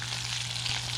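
Green tomatoes fry in a pan with a steady, dense hissing sizzle heard close up over a low constant hum, without any voices.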